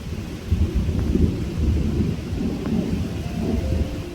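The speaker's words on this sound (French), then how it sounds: "Oh la tonne de flotte. Il pleut gavé." Heavy rain pours steadily in a thunderstorm with little or no lightning while low thunder rumbles roll through, loud and continuous with no voices.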